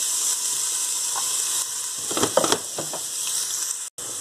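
Onions dropping into hot rapeseed oil in a pot for a vegetable stew, a constant hiss with a brief burst of crackling sizzle and stirring partway through, close and with no voices.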